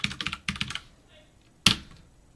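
Typing on a computer keyboard: quick bursts of crisp key clicks in two clusters, then a pause and one sharper tap, close and clear in a quiet room.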